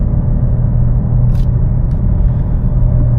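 A loud, low BMW M4 CSL (G87) engine rumble idles steadily up close, with a brief faint click partway through.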